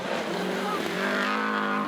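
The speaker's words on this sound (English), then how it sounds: "Pulls on the handbrake, cuts it in tight." A rally car on the Ashley Forest gravel stage, driven hard through a tight handbrake corner, its engine revving loud and close as it rises in pitch, with a voice talking over it.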